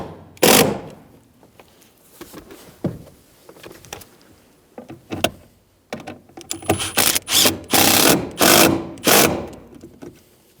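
Fuel pump driver module bolts on a 2000-2007 Ford Focus being snugged down with a T40 bit: a string of loud, rapid mechanical rattling bursts, close up, growing denser toward the end, with no talking.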